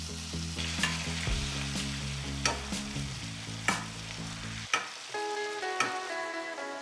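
Steady loud sizzling of a steak searing in a very hot frying pan, with a few sharp crackles and pops, and faint tones in the background.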